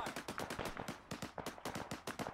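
Rapid bursts of automatic gunfire in a military combat video game, sharp repeated shots in quick clusters with short gaps, loud and close, with no talking over it.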